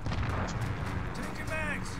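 A cruise missile strike in Call of Duty: Modern Warfare lands as a loud, dense rumbling blast filling the whole moment, with battlefield noise and game voices mixed in.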